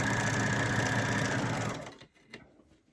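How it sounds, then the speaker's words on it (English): Overlocker stitching a chain off the edge of fabric for a Santa gift bag, a loud close rapid mechanical whir that stops abruptly, followed by a few soft clicks and handling sounds. "And then we're going to continue to stitch, which is just making chain."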